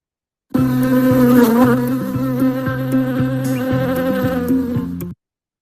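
A bee's buzz drones continuously for several seconds, close and fairly loud, its pitch wavering slightly before it cuts off abruptly.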